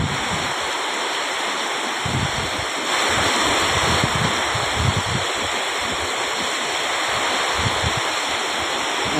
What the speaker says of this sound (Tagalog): Yung ilog lumipat na sa kalsada.